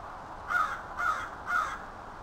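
A crow caws three times at an even, unhurried pace on a calm, sunny morning. The harsh calls carry moderately from a short distance over a quiet background, with no talking.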